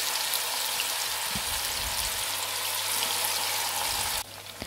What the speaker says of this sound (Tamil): ஆயில் ஹீட் ஆன பிறகு நம்ம வந்து இப்போ chicken வந்து சேர்த்து ஃப்ரை பண்ணிக்கலாம்.